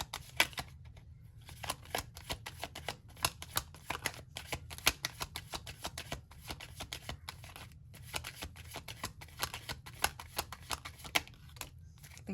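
Tarot cards being shuffled: a steady run of quick, soft riffling flicks, close and quiet, going on continuously without talk.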